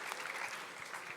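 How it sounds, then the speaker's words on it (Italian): An Italian audience at an ITS technical-school event gives a brief, faint round of applause for former students, a soft continuous patter of clapping lasting just over a second. "facciamo un applauso anche a loro, più forte ancora"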